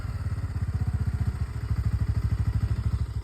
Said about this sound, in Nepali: ल यसो बाइकले नि तानेन यार, बाटो छ पुरा यस्तो अन्धकार छ होइन